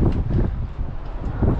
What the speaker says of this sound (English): It's windy up here. It's breezy.